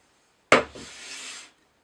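A single hand plane stroke runs across wood, with a sharp close attack and then a soft, even rasping slide of about one second before silence.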